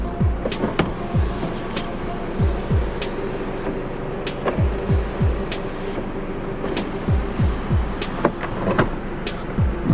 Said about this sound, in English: open the sunroof